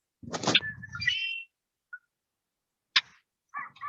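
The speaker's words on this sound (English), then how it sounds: "That is a Redwing Blackbird recording." A played recording of a red-winged blackbird song: a harsh buzzy trill with a sharp whistled note, followed by scattered brief chips and calls, faint and sparse.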